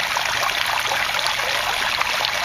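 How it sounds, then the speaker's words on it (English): Water trickles steadily into an aquaponics setup, a close, continuous bright splashing with no talk. "Then I'll still have some water running in."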